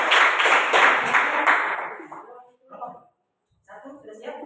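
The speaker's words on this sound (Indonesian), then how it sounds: "Kasih tepuk tangan dulu." A classroom group applauds after a student presentation, a dense burst of hand clapping for about two seconds that quickly dies away, followed by brief speech.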